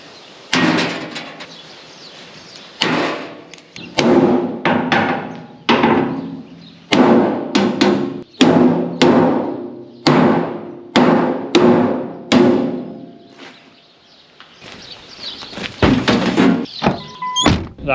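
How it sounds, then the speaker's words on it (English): Heavy sledgehammer blows land on a bowed steel grain hopper on a farm, a dozen loud metallic thunks in irregular bursts with short pauses between, close by and with no talking. "So I just got the big sledgy out and tried to straighten it up a little bit."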